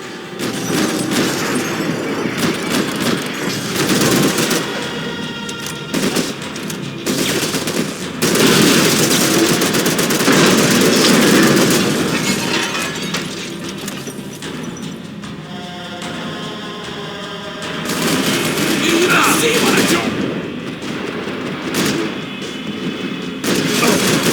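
Gunfire in the video game Max Payne 3, with dense bursts of automatic shots and loud volleys going on almost without a break, alone and without talk.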